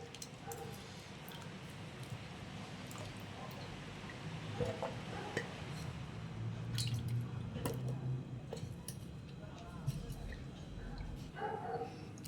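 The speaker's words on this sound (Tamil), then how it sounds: "இப்போ இது எல்லாமே தண்ணியில் போட்டு கழுவி எடுத்துக்கலாம்" Wet squishing and dripping as cut vegetables are swished and lifted in water, with a person talking over it and a dog yipping faintly.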